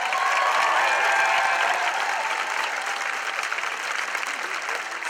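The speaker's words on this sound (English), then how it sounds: "Let's give them another round of applause." Crowd at an outdoor climate strike rally claps steadily and loudly, a dense sustained wash of hand claps with faint crowd noise underneath, easing slightly toward the end.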